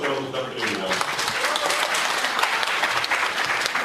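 Wedding guests break into enthusiastic applause after a friend's love song for the bride and groom, a loud, continuous crowd of clapping hands, with a little voice and music audible at the very start.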